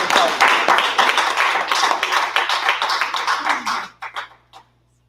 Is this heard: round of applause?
yes